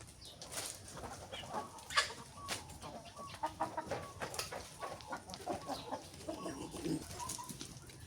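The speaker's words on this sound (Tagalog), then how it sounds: "ay ganadong-ganado po itong mga manok ko dito sa oregano dahil nasanay po sila." Backyard chickens feeding on oregano leaves cluck and murmur in a busy cluster, with brief wing flaps and scattered pecking sounds, moderately quiet and close, no talking.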